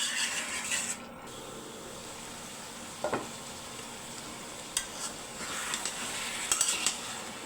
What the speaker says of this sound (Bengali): ঢাকনাটা তুলে আবার একটু নেড়ে চেড়ে দিলাম